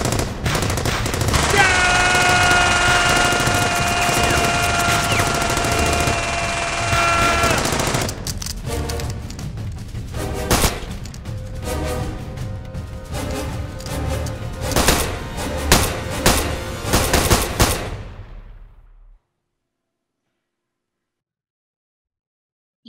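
Staged gunfire from a short gunfight film rattles in dense automatic bursts and scattered single shots, loud and close, then thins out and cuts to silence.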